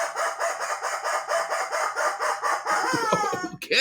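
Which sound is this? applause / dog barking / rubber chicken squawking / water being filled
rubber chicken squawking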